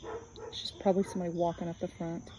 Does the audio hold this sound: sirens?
no